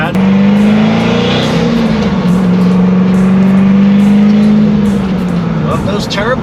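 A twin-turbo C6 Corvette accelerates while cruising on the road, its loud, close engine drone holding steady and climbing slightly in pitch, with the whine and rush of the turbos above it.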